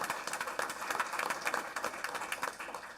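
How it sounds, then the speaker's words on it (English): Audience applause at a school board meeting, a moderate round of clapping with uneven bursts that rises and dips, heard from some distance in a meeting room. "Give him a right round of applause for all the work he's done."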